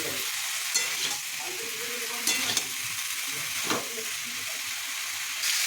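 Boiled chickpeas and peanuts sautéed with spices in a pan, a soft continuous sizzle with occasional stirring scrapes, no voices.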